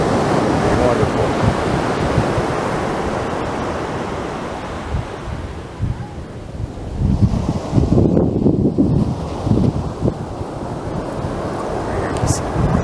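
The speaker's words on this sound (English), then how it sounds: "Got some waves in there too." Ocean waves on the Pacific coast at Muir Beach wash and roar steadily, with a louder surge building and breaking around the middle, mixed with wind buffeting the microphone and a faint voice in the background.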